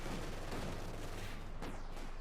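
Autocannon and machine gun fire in Company of Heroes 2, a dense, loud burst of rapid cracks that stays unbroken for the whole short stretch.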